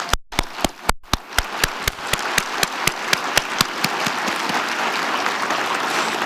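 Audience applause in the UN General Assembly Hall during a global engagement summit: a few sharp, evenly spaced claps at first, then swelling into a dense, steady wash of many hands filling the large room.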